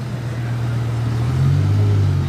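A BMW M5 with a V10 engine and Eisenmann exhaust idles in a deep, loud rumble that swells into a brief rev partway through, close by with no talking.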